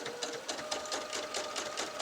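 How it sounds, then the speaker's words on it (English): A sewing machine stitches steadily during ruler quilting, its needle running in a fast, even rhythm at close range with no pauses. "sew in like that, and I'm going to come to a stop there"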